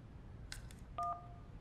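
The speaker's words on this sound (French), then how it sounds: "Est-ce que vous pouvez l'appeler sur son portable" Phone keypad tones dialing a mobile number, a few short beeps followed by a clearer pair of tones, soft and close against a quiet background.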